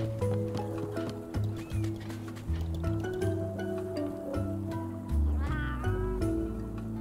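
A cat in the video game Monster Hunter Stories 2: Wings of Ruin meows several times over looping game music, the cries moderately loud and irregular.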